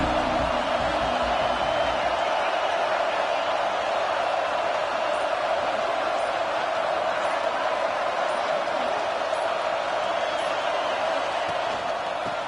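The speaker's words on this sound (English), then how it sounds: "the crowd really getting into it" A college football stadium crowd roars on third down at Notre Dame versus Clemson, a dense, continuous wash of cheering that stays loud and steady throughout, with no distinct voices standing out.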